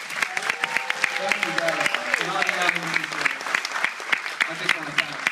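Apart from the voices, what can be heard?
audience applause at a film festival Q&A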